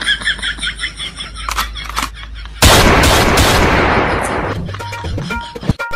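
A burst of gunfire from a gun erupts partway through, loud and dense, then decays into rumble; quieter mixed sounds come before it and a few sharp hits follow, in a comedy sketch.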